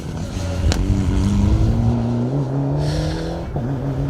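A Mitsubishi rally car on a forest stage at the Colin Ellmore Memorial Rally roars past close by, its engine note climbing through the revs, with a sharp crack partway through.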